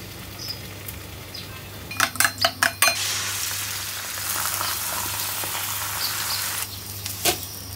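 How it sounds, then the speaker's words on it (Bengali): Chicken cold cuts fry in a pan with a steady sizzle, broken early by a quick series of metal utensil clinks against the pan and another clink near the end, close and clear with no talking. "আমি একটু ভেজে ফেলছি।"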